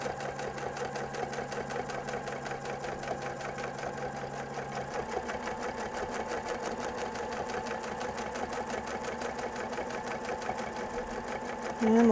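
A sewing machine quilting steadily with heavy, thick decorative thread wound in the bobbin, a continuous close mechanical whir with a fast, even stitching rhythm that runs for the whole stretch without talk.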